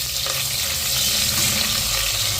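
Onions for biryani fry in a pan with a dense, continuous hissing sizzle, loud and close, with no talking.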